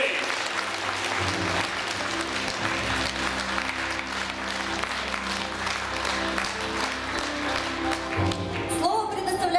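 An audience applauds participants of an international throat-singing contest at an evening concert, with sustained, even applause from a large crowd filling the hall throughout and a voice starting to speak over it near the end.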